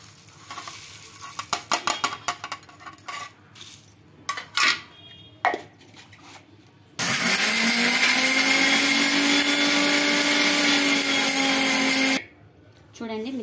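A kitchen mixer grinder grinds roasted spices into powder for chicken fry. Scattered clinks and handling noises come first, then a loud, steady whirring roar runs for about five seconds and stops sharply.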